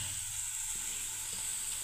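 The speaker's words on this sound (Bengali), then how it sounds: "ভাজা হচ্ছে বন্ধুরা" Vegetables sizzle steadily in a frying pan with onion-free spiced vegetable curry in progress, a constant dense hiss, close and even, with no voices.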